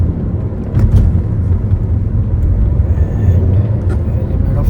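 A constant low rumble of road and engine noise fills the cabin of a moving Toyota Innova Hycross ZX hybrid, steady and droning with no voices.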